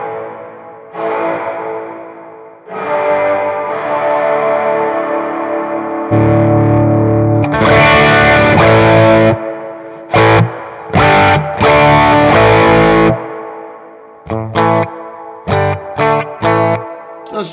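An electric guitar played through a Sonicake Pocketmaster reverb with a Nobels ODR-1 overdrive in front rings out in loud distorted chords and notes, sustained passages giving way to short choppy stabs with a reverb tail.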